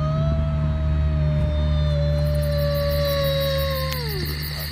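A person imitates a wolf howling at the moon during an evening walk on a riverbank, one long sustained wavering howl that slowly falls in pitch and breaks off, loud and close over steady background hum.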